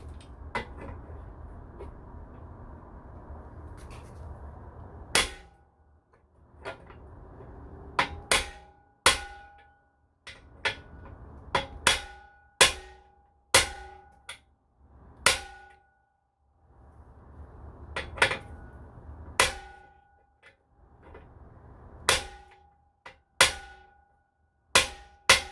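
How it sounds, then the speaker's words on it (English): Sharp metallic hammer blows knock pieces flush against a wooden block for a scrap-built electric motorcycle, sounding in irregular single strikes and quick pairs across the stretch, with quiet handling noise between them. "Make sure you don't hammer these in backwards."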